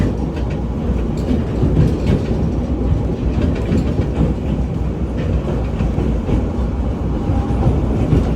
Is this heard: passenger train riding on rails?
yes